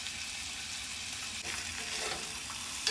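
Food fries in a pan on a stove during roadside van-life cooking, a steady close sizzle and hiss with slight stirring shifts and no voices.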